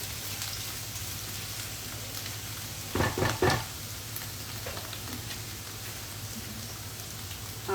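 Garlic and ginger sizzle as they fry in a pan for Kung Pao potatoes, a steady close crackle broken by a short burst of stirring or utensil scraping midway, with no voices.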